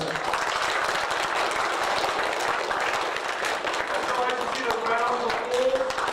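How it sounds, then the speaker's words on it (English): A school assembly claps for the winners, a broad continuous patter of many hands with some voices mixed in toward the end. "Round of applause for all those"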